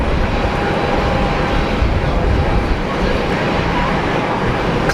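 A jet airliner lands at Geneva Airport with clamshell thrust reversers deployed, giving a loud, sustained broadband roar that stays steady across the moment, with a voice faintly mixed in.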